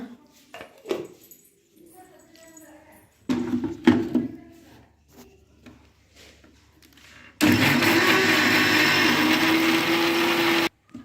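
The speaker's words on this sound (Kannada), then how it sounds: "ಇವಾಗ ರುಬ್ಕೊಳ್ಳೋಣ" Mixer grinder grinding ingredients for seeme badanekayi (brinjal) gojju, a loud steady motor whir that starts abruptly after short bursts and quiet clatter and runs evenly for several seconds before cutting off.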